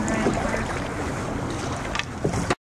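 Steady wind buffets the microphone over Burwell Creek floodplain water, with faint splashes and sloshing from a paddled canoe moving along, then it cuts off abruptly.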